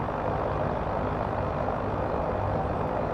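Steady, continuous engine and rotor drone of a Hiller UH-12 helicopter in a flight simulator game, loud and even throughout with no talk.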